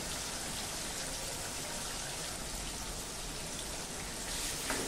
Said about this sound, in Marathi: आलं लसूण पेस्ट आणि हे मस्तपैकी परतून घेऊया।